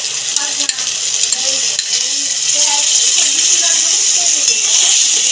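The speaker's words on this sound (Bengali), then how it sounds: "টক দইটা দিয়ে ভালো করে কষিয়ে নেব" Yogurt being stirred into frying masala in a pan for a Bengali doi echor dish, with a steady oily sizzle under repeated spoon scrapes and light clinks against the pan, while a voice talks intermittently.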